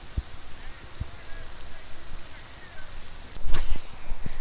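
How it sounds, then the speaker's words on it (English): Steady rain falling on a fishing trip, a soft broadband hiss close to the microphone with a few sharp knocks and a louder burst of rustling near the end. "a little rain never broke me, but it might break the GoPro"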